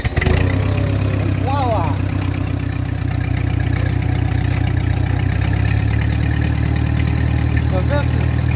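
A Ford 8N tractor engine cranks and catches, then settles into a loud, steady low-pitched idle with a rhythmic chug. Someone speaks briefly over it near the start.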